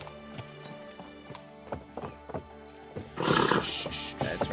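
Horse in the medieval game Kingdom Come: Deliverance II clip-clopping along in a steady rhythm of hoof strikes, then breaking into a loud, bright neigh near the end, close and clear.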